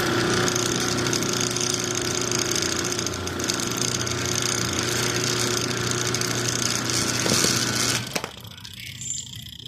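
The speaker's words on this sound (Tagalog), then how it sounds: "Baka tumakbo yung motor." Washing machine motor running on its timer during an open-wire repair test, a steady loud electric hum and rattle that cuts off abruptly near the end.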